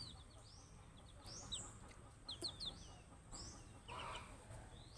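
Backyard hens cluck softly at a distance, a few short chirpy calls scattered over a quiet outdoor hum, with one slightly louder burst near the end.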